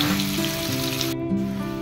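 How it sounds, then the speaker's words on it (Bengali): Boiled potatoes frying in hot oil in a kadai while chicken biriyani is being cooked, a steady close sizzle with bubbling crackle throughout, no talking. "এবার এক এক করে সিদ্ধ করা আলুগুলো তেলের মধ্যে দিয়ে দেবো।"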